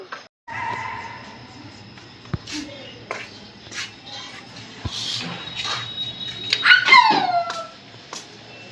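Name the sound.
dog barking loudly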